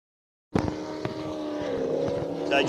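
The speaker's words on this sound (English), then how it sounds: "another very, very quick 105 mile an hour category boat running a 6 litre engine" A racing powerboat with a 6-litre engine roars into life after a brief silence, its loud, steady engine drone building slightly as it runs close by on the water during a club day warm-up.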